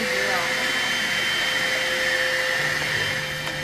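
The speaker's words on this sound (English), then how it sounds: "I will vacuum your whole house" A vacuum cleaner drones steadily and loudly throughout, its high whine constant with no pauses.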